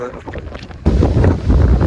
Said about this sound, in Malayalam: നല്ല കാറ്റടിക്കുന്നുണ്ട്. ഇപ്പം വോയിസ് ഐസൊലേഷൻ ഇല്ലാതെയാണ് ഞാൻ വീഡിയോ എടുത്തോണ്ടിരിക്കുന്നത്.